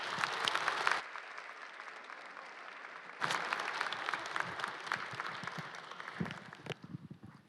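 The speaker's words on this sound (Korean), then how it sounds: "목사님 나오실 때 한번 큰 박수로 환영하겠습니다." A church congregation applauds to welcome a senior pastor, with dense, steady clapping that pauses briefly and then swells again before tapering off.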